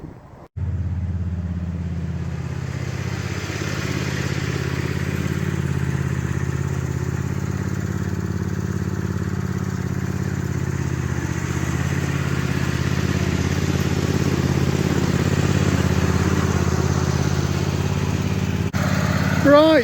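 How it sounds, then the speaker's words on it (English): A red tractor's engine runs steadily at idle while warming up, a loud continuous close-up drone that holds for the whole stretch before a clunk at the end. "so I think I'll get the red tractor out"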